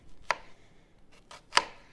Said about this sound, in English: I'm just going to make slits into my onion